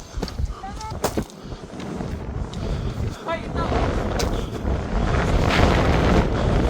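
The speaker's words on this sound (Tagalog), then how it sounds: "Sobrang lakas ng hangin." Strong, cold wind buffets the microphone with loud, rushing gusts on Mount Yushan, Taiwan's highest peak, while a person speaks briefly underneath.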